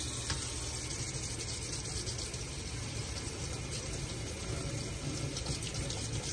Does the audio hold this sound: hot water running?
yes